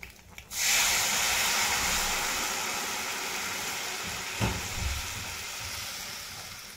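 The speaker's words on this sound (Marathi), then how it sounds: "आता आपण कोमट केलेलं पाणी घालू याच्यात." Lukewarm water poured into hot egg curry masala sets off a loud, steady sizzling hiss that slowly eases off. A single dull knock comes midway.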